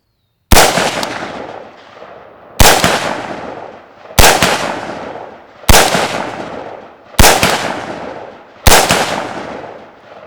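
Six sharp rifle shots, spaced about two seconds apart, crack loudly, each followed by a quick ringing decay as the round strikes a steel target, with no talking.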